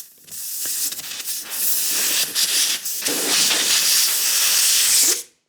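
Air rushes out of a car tyre valve once the core is removed, a close, loud, continuous hiss lasting about five seconds before it cuts off abruptly.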